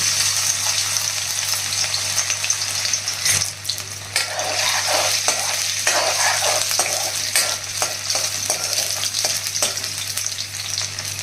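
Finely chopped ginger fries in a ladleful of hot oil, a loud, dense sizzle that runs nonstop with scattered crackles and light scraping of a utensil, over a steady low hum.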